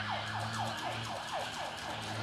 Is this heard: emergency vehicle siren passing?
yes